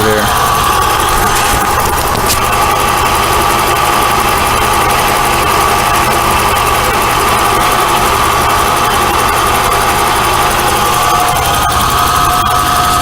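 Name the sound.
1991 Oldsmobile Cutlass Ciera engine idling with a shake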